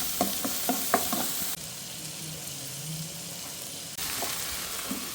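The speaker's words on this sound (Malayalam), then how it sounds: "ഇതിലേക്ക് നമുക്ക് ഇഞ്ചിയും വെളുത്തുള്ളിയും ചേർക്കാം ഇതുമൊന്ന് വഴറ്റിയെടുക്കാം" Ginger and garlic sautéing in a pan for chickpea curry, giving a faint steady sizzle, with a few sharp spoon clicks at the start and end and a quieter stretch in between.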